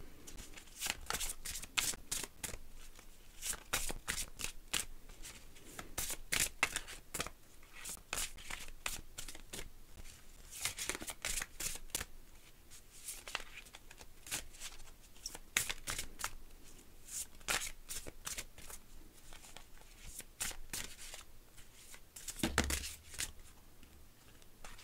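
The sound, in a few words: shuffling oracle cards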